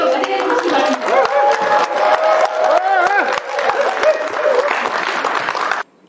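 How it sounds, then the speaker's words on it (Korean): A lecture-hall audience bursts into sustained applause and cheering to welcome a humor lecturer onto the stage, with loud, dense clapping and voices throughout, then cutting off abruptly near the end. "큰 박수로 맞이해 주시기 바랍니다."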